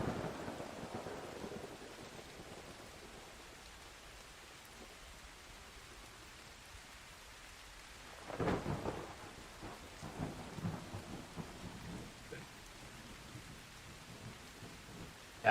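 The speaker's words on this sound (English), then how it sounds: "you don't really hear anything other than pounding rain outside and the odd thunderclap" Heavy rain pounds steadily outside while thunder rolls in, a loud rumbling crack about halfway through followed by lingering grumbles over the constant hiss of the downpour.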